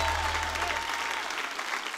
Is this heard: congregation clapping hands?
yes